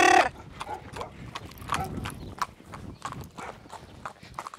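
A horse trotting, its hooves clip-clopping in a steady repeated rhythm at close range, the regular beats standing out clearly with no talk over them.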